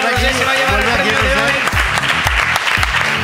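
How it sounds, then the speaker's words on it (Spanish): A live audience applauds for Rosé at a taping of the comedy podcast La Ruina, steady dense clapping throughout with voices and tonal sounds layered over it. "Un aplauso para Rosé"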